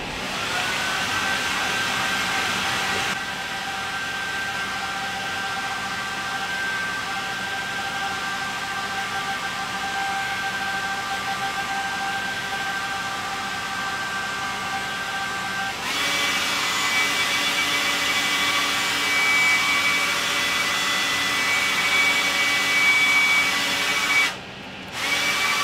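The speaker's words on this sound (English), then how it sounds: "now with the power of a hairdryer and editing," A hair dryer blows steadily while drying painted plastic model parts under masking tape. The hiss drones continuously, shifts in tone twice as the setting changes, and cuts out briefly near the end.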